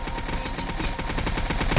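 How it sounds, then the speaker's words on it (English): A fast burst of automatic gunfire in Project Delta, loud and continuous rapid shots across the whole moment, with no talk over it. "We're getting shot at."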